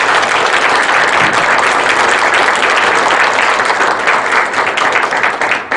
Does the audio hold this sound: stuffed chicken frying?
no